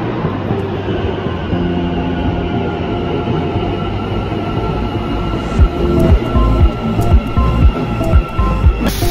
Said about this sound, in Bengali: মেট্রো এসে গেছে, উঠে পড়তে হবে